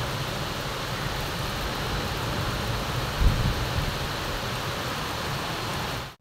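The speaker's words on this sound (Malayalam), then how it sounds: "കടലിൻ്റെയും കാറ്റിൻ്റെയും മഴയുടെയും ഒക്കെ ഒച്ച" Heavy rain with wind and sea surf roars as a steady, dense broadband wash, with a brief low rumble of thunder midway before the sound cuts off at the end.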